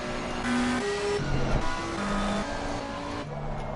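Race car engine heard on board during a PS5 racing game lap at Kyalami, a steady whining drone that steps up and down through gear changes, moderately loud and alone.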